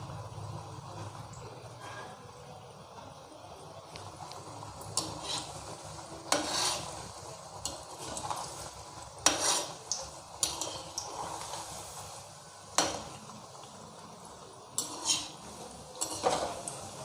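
Jaggery shankarpali frying in oil over a low flame, a faint steady bubbling with scattered clinks and scrapes of a utensil against the pan, close by and with no voices.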